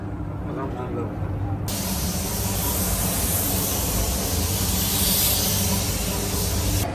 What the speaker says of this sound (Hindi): बस अब फाइनल कोट लग रहा है पेंट का